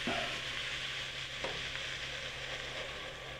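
Steady frying sizzle of chilies in a pan with a broadband hiss throughout, a soft clink near the start and again midway, no voices.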